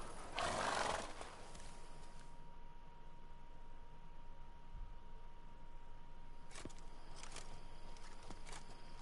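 A horse in the video game Witcher 3 gives a loud whinny at the start, then soft hoof clip-clops and faint ambient game sounds follow under a steady background tone.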